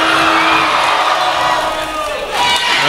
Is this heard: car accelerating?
no